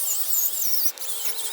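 An electric drill fitted with a polishing pad buffs hard water spots off a car door handle, giving a steady high-pitched whir with a brief dip midway, close and alone.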